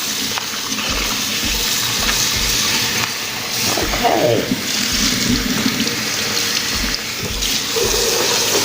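Cold tap water runs steadily into a sink while catfish are rinsed, a loud, close, continuous splashing with brief shifts as the stream is interrupted; a voice speaks briefly.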